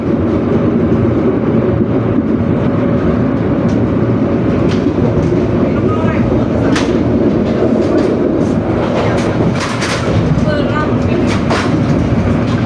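A fast executive passenger train on the Jogja–Surabaya route rumbles steadily from inside, with dense low roar, occasional rail clatter and squeaks throughout, loud and continuous.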